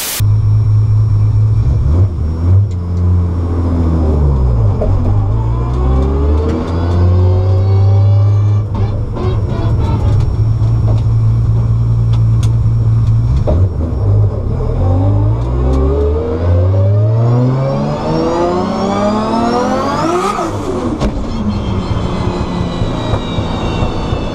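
A race car fitted with a PPG 1-to-5 straight cut gear set revs up and down repeatedly, its engine roaring loud and close while a high, rising gear whine sweeps upward with each pull, with no talking.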